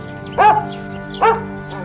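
Two short, sharp dog barks about a second apart, fairly close, over a steady low background hum.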